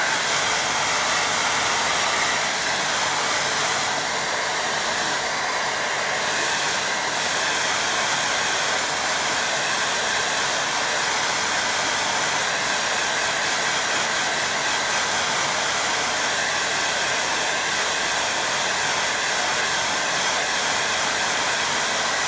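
A hair dryer blowing on a watercolour lake painting, a loud, steady continuous whooshing roar running unbroken the whole time, with no talk.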